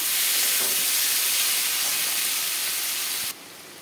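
Chopped tomato goes into a hot pan with ground coriander, cumin, chili powder and turmeric, setting off a loud, steady broadband sizzle that hisses continuously and then drops off sharply near the end.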